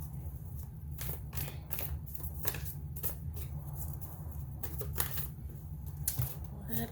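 Tarot cards being shuffled and drawn, with a run of quick, crisp riffling clicks and taps repeating over seven seconds against a steady low hum, fairly close and moderately quiet.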